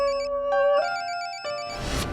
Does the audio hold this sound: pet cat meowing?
no